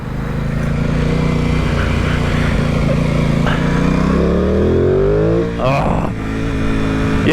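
A middleweight motorcycle engine, a 2021 Honda CB650R or Aprilia Tuono 660, drones loud and close under wind noise while riding, its pitch climbing steadily before a brief dip and recovery near the end.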